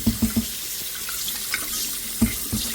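Tap water runs steadily with splashing and clinking as a kettle is rinsed, a few sharp knocks of metal near the start and later.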